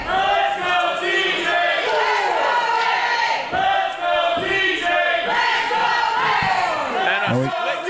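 A packed wrestling arena crowd chanting and cheering continuously, many voices rising and falling in rhythmic waves with a few sharp thuds near the end, loud and filling the space.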